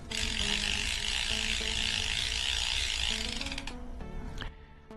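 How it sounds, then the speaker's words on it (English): Abu Garcia Zenon LTX baitcasting reel's clicking drag ratcheting rapidly and loudly up close as line pulls out, the clicks slowing and stopping near the end. "this clicking drag is extremely loud"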